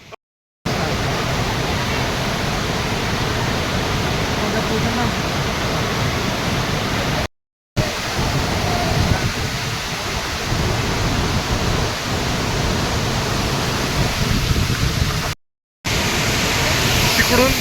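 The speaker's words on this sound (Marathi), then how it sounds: "लई जबराट धबधबा आहे" Chitrakote waterfall in Chhattisgarh roaring as a loud, dense, continuous rush of water broken by brief cuts, with a few faint voices under the roar.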